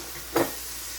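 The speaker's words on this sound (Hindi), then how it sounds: "इसको मैं फ्राई कर रही हूँ मटरों को और गाजर के साथ" Frozen peas and carrots hit a hot pan with a brief burst of sizzling and stirring, which settles into a soft, steady frying hiss.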